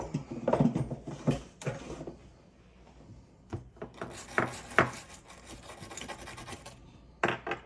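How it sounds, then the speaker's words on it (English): A wire brush scrubs rust off the blade of an Ontario Rat 1 knife in short, uneven rasping strokes, close and fairly quiet, with pauses between bursts and no one talking. "I'm gonna have to get one of my wire brushes and hit that so that rust goes away."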